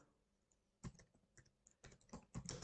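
A computer keyboard clatters close up with quick, irregular keystrokes that build into a denser burst of typing, with no voices.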